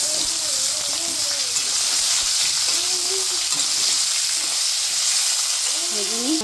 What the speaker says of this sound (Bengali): এখন এই যে ঝিঙাগুলো এখন দিয়ে দেবো। এটাও ভালো করে একটু ভেজে নেব।